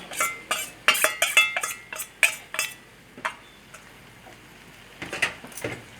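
A spoon scraping and clinking against a metal cooking pot while a thick banana-blossom and prawn mixture is stirred, a run of sharp close taps in quick succession, then a pause and a few more scrapes.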